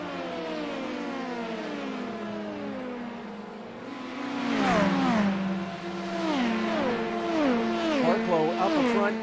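A pack of LMP prototype race cars sweeps past at Road America, high engine notes climbing and sliding through gear changes as several cars pass in quick succession, loud and overlapping.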